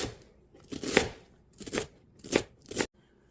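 A knife chops food on a board, cutting it into skinny strips and then small chunks for a tuna casserole. Four crisp, separate chops land at an uneven pace, fairly close, with no talking.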